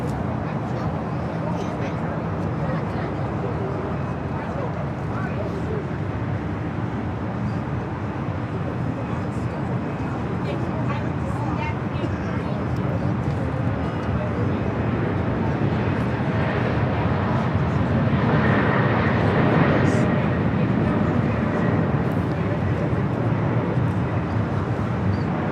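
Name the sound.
Hawaiian Airlines Boeing 787-9 Dreamliner taking off at LAX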